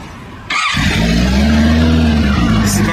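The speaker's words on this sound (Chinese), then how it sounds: "四缸声音啊" A 2022 Benda LFC 700 four-cylinder motorcycle fires up and revs, going from quiet to a loud, sustained engine roar with rising pitch that holds steady close by.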